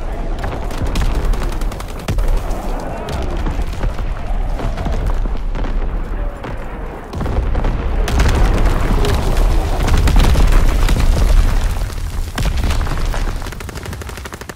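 Heavy artillery barrage from a World War II shooter game, with dense, continuous booming explosions and rattling gunfire rolling over each other loudly for the whole stretch, swelling midway.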